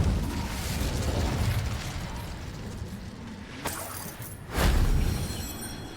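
A roaring whoosh of flame from the Incendio fire spell in Hogwarts Legacy, a steady noisy rush with a sharp crack midway and a louder burst near the end.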